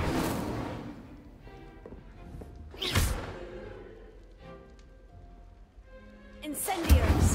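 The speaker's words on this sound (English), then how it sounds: "Incendio! Setting things ablaze is certainly cathartic, isn't it?" Incendio fire spells cast in Hogwarts Legacy, heard as loud whooshing bursts at the start, around the middle and again at the end, with game ambience and a soft rumble between them.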